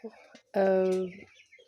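A Saso hen at her laying spot gives a single drawn-out clucking call, close and clear, framed by soft quieter sounds before and after.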